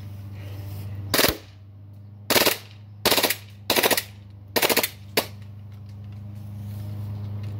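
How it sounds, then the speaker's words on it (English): A Glock 18C airsoft gas pistol fires short full-auto bursts, six rapid rattling strings with brief pauses between them, close and loud over a low steady hum. "That's the Glock 18C shooting video."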